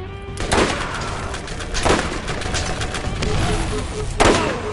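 Gunfire aimed at a target, with a few sharp, loud shots spaced over several seconds and steady background noise between them.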